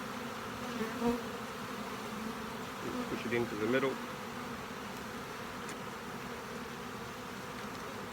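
Honeybees buzzing around a hive frame and comb as a beekeeper works, a steady low drone throughout with a brief spoken remark partway through.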